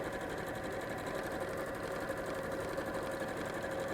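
A sewing machine stitches a 5/8-inch seam on a Christmas Highland cow cushion, a steady close whirring hum running evenly and alone throughout.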